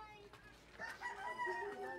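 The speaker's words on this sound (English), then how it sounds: "So we've got chickens everywhere still around here." Chickens and a rooster crow and cluck faintly in an outdoor slum neighbourhood of Cebu City, Philippines, brief calls rising over a quiet background.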